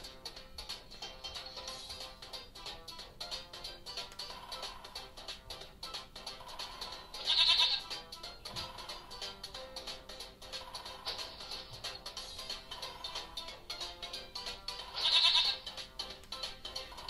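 Goat bleats from the mobile game Oh My Goat, two short bright calls spaced several seconds apart over steady game music.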